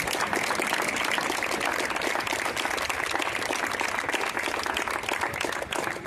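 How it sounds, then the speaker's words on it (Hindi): Sustained audience applause from a crowd welcoming newly selected Army Agniveer recruits at a public event, a dense, steady wash of clapping that holds evenly loud throughout without pauses. "तालियां बजती रहे।"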